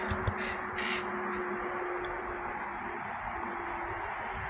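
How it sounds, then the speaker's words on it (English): A bird with a hoarse, crow-like caw gives a few faint, brief rasping calls early on, set against a steady breezy outdoor hiss on a cloudy June day. "That sounded like a bird that has throat problems."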